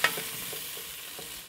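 Button mushrooms fry hard in a Dutch oven, giving a steady hiss with a few soft stirring scrapes. The sound is close and continuous, and nobody speaks.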